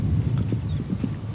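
Rhythmic clip-clop of a horse's hooves on a cross-country course at a 1990 eventing horse trial, steady repeated thuds under a low rumble of outdoor background.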